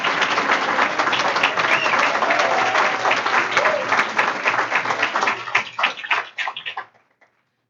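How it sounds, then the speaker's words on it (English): Audience applause at a women's hall of fame awards ceremony, a loud sustained crowd clapping with some cheering that thins into scattered claps and fades out near the end. "give her a clap"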